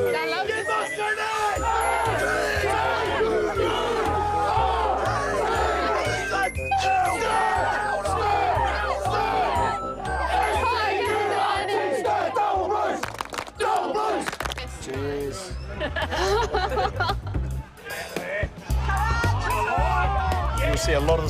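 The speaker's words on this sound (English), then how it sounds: "Crowd cheer! Cheer! Crowd roar!" An Australian sports crowd cheers and roars, a loud, dense wall of yelling and shouting voices that surges continuously with brief dips before rising again.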